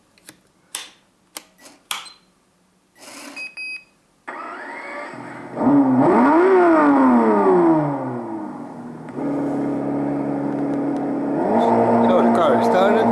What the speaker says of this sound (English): So we're gonna start her up, warm her up and do a flat out run to see what is the top speed of the car.